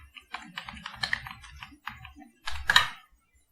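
Computer keyboard typing in short irregular bursts of clicks and key taps, ending with a louder cluster of keystrokes, close and alone with no talking.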